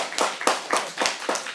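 Lecture audience applause comes as a short run of about five sharp, evenly spaced claps, close and fairly loud.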